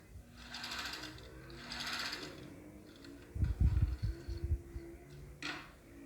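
Sewing machine stitching the second seam of bias binding on a retro blouse, inside out, running in steady close bursts with a brief louder thumping stretch partway through.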